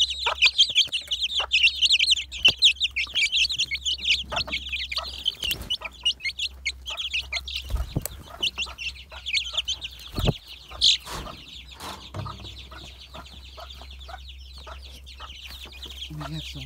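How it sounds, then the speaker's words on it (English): Chickens cluck and chirp steadily in a farm setting, a dense chorus of close, busy bird calls over a low hum, thinning out after the first half, with a few sharp knocks and occasional quiet speech. "Eager little chickies."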